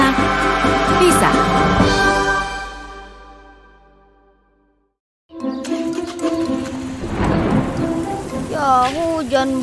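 Heavy rain falls with rolling thunder in a continuous wash that fades to near silence and then returns in a dense downpour, with music or voice-like tones layered over it.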